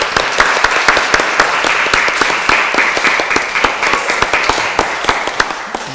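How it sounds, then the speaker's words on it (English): An audience of children and parents at a school nursery graduation applauds steadily, with sharp individual claps standing out above a dense wash of clapping for several seconds. "I think we should give them a big round of applause."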